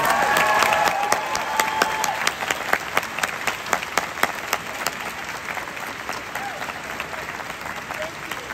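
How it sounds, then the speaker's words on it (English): A concert audience applauds a singer at a show in Cincinnati, a dense, sustained wash of clapping that stays loud for several seconds and then eases slightly toward the end, with a few stray voices underneath. "Please, a big applause for Mr."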